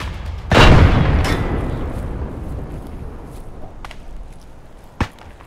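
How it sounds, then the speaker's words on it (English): A single loud grenade explosion in Escape from Tarkov booms up close and rolls off in a long fading rumble, followed by a few faint distant cracks and one sharper pop. "That was a nice nade, wasn't it?"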